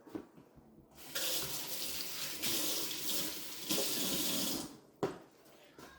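Water runs steadily from a kitchen tap while hands are wetted before cutting dough, a close, broadband rushing that starts after a second, shifts slightly in tone as the hands move through it, then cuts off near the end.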